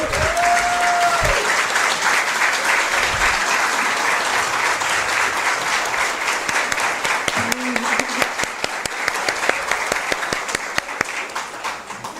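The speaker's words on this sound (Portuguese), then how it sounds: "Gostaria que vocês levantassem e aplaudissem de pé a fala dessa estudante." An audience gives a standing ovation to a student's speech at a state seminar on confronting sexual violence against children, with loud, sustained clapping that fills the hall throughout and a brief tone at the start.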